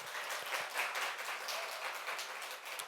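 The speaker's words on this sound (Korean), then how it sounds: "우리 선생님들에게도 박수 한번 드리도록 하겠습니다." A church congregation at a joint youth and young-adult worship service applauds its teachers in a steady, even wash of clapping that sounds somewhat distant and subdued, without talk.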